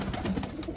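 A flock of Iraqi pigeons in a European loft murmurs with soft coos, punctuated by several short, sharp rustling flicks spaced unevenly across a noisy backdrop, with nobody talking.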